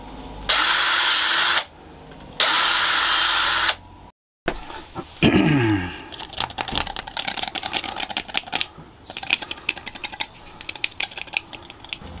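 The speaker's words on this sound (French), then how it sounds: "Pareil, je vais faire des trous beaucoup plus gros." Power drill boring larger holes in a plastic part of an OASE pond filter, two long steady whining bursts with a brief pause between, followed by scraping and rattling handling noises.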